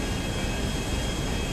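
Steady, unbroken roar of an airplane cruising at altitude in GTA5, a constant broadband engine and wind drone with a faint high whine, no voices.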